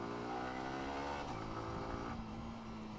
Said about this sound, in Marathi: नुसती ट्रॅफिक रे नुसती ट्रॅफिक